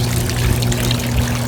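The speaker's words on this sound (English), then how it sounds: "All right, we're draining. Rinse cycle is draining." Rinse water draining out of a GIANTEX portable full automatic washing machine, a loud, steady rushing pour that continues without a break, close by.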